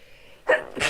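A quick, sharp sneeze close by, a short intake followed by a burst, then a softer trailing breath.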